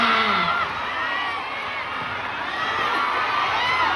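A large crowd at a live mall show in Cebu shouts and cheers loudly and without a break, with whoops and high children's voices rising over a steady roar of applause-like noise.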